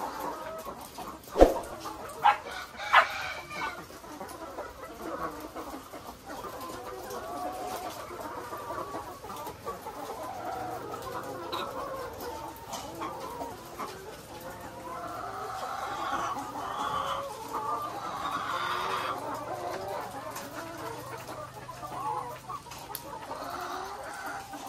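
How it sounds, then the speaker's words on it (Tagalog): Layer hens cluck steadily inside a poultry cage building, a dense overlapping chorus of farm birds with a few sharper squawks near the start and a busier stretch toward the end. "Tsaka yung ating nasirang cages, ito na po. May mga manok na."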